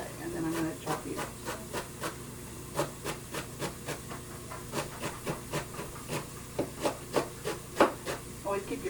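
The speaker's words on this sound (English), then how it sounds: "Okay, and then I'm going to chop these." Knife chopping vegetables on a cutting board for homemade chicken alphabet soup, a steady series of sharp, close taps repeating roughly twice a second over a low kitchen hum, with no talking.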